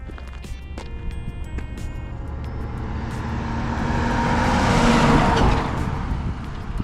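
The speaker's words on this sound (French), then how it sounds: "Il passe à une vitesse le camion." A truck passes at speed along a road on a walk from Strasbourg toward the Vosges. It approaches with a rising roar, peaks loud and close, then fades. Faint footsteps sound beneath it.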